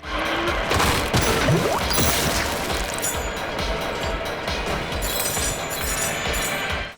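Donkey Kong smashes and pounds through terrain in the video game Donkey Kong Bananza, a dense, continuous run of crashing impacts and crumbling debris over game music, loud and busy throughout with no pause.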